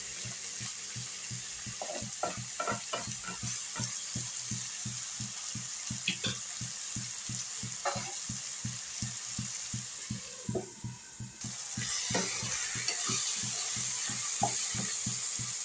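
Chicken masala with sabsige (dill) greens frying in a pan, a steady close sizzle broken by regular scraping stirs, growing a little louder and brighter toward the end; no one speaks.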